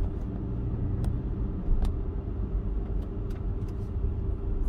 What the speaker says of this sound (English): This truck just passed by.